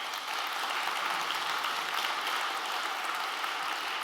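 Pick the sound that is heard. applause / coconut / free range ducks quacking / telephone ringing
applause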